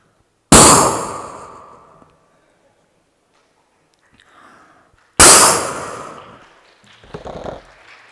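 A performer at a televised talent-show grand finale vocally imitates pistol shots, producing two sharp, loud bang-like bursts a few seconds apart, each trailing off, with a softer vocal noise between and after them.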